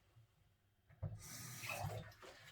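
Water running from a tap at a yarn-dyeing setup, silent at first, then turned on abruptly into a steady, close splashing flow that eases off near the end.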